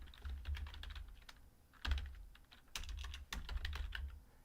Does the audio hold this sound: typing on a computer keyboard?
yes